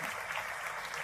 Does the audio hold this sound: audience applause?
yes